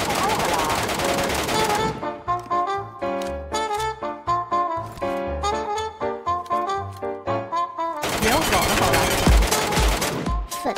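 Rapid bursts of automatic gunfire from the video game Metro escape, loud and dense at the start and end, with a music-like tonal passage between them.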